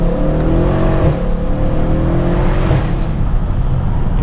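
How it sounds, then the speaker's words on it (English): Inside a Mercedes-Benz W212 E63 AMG with a full exhaust while driving, the engine hums steadily as the turbo whooshes and whistles under load, a smooth continuous drone with no talking. "And you get some nice turbo sounds."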